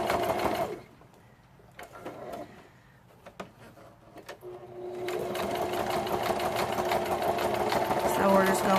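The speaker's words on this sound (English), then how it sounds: "I'm just going to go around the edges with a zigzag stitch again" A sewing machine stitching zigzag around the edges of fabric scraps, its motor whirring briefly at the start, pausing amid quiet handling clicks, then running steadily and close for the second half.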